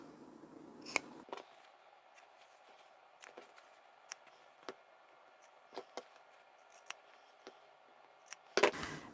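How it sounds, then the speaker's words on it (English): Scissors snip the corners of a fabric cosmetic pouch, a string of sharp, close, quiet cuts spaced irregularly, with a brief rustle of fabric between them and a few louder snips at the end. "And then we can trim our corners."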